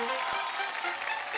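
A studio audience on the Marathi game show Sohala Sakhyancha breaks into a brief burst of clapping.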